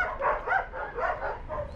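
Several greyhounds bark in a loose run of overlapping, mid-pitched barks and yips, fairly close and steady, with no talk over them.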